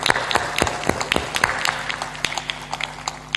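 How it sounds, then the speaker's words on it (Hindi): Audience at a spiritual satsang discourse claps loudly, a dense burst of overlapping hand claps with sharp individual slaps standing out, steady throughout with a faint hum beneath. "जोर से ताली बजा दो।"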